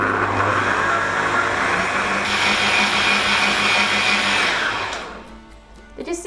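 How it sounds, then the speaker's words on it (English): An electric mixer whips flødeboller foam until stiff, a loud, steady, close motor whir. It runs continuously for about five seconds, then cuts out and leaves brief quieter clatter. "I'm just going to beat it for about 2 minutes more and then it is ready."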